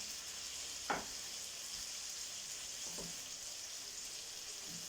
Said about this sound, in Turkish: Şöyle bunlarla da güzelce karıştıralım, soteleyelim arkadaşlar.